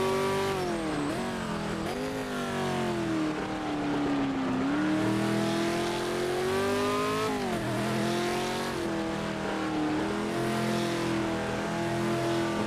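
Race car engine in the Project Motor Racing video game, GT Icons pack on PS5, revving and accelerating through the gears with rising and falling pitch, loud and continuous with shifts and brief dips.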